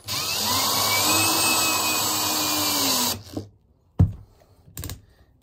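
A cordless drill runs steadily for about three seconds while driving small hinge screws for a chicken coop trap door, then stops, followed by a few sharp clutch clicks and knocks.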